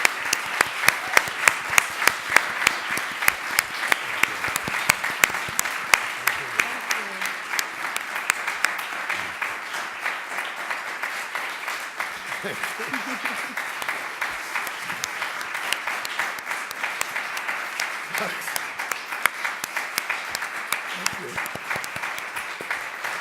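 Sustained audience applause in a hall after a Sheffield documentary festival talk, dense steady clapping that runs the whole stretch, slightly louder at the start, with faint murmurs of voices underneath.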